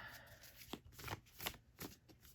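Tarot cards are shuffled by hand close up, a quiet rapid series of riffling, flicking bursts in an uneven rhythm, with no talk over them.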